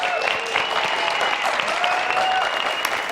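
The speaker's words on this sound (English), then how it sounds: "Please give them a round of applause." A studio audience on a game show claps steadily for about three seconds, a dense, even wash of applause with some faint whistling tones under it.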